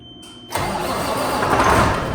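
A truck engine cranks and catches after a half-second of near silence, then settles into a steady, loud idle that roars on close by with no one talking.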